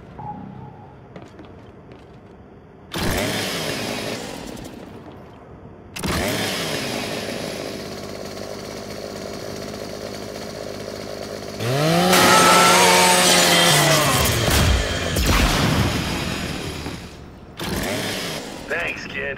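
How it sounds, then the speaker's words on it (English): A Lancer rifle's chainsaw bayonet in Gears 5 cuts into a custodial robot, with loud buzzing bursts that rev and climb sharply in pitch near the end, broken by short pauses. "Just use your Lancer's chainsaw"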